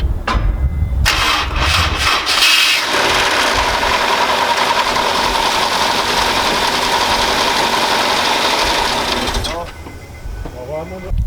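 A used auction car's engine cranks briefly, then catches and runs loudly and steadily close by for several seconds before cutting off, with a voice heard near the end.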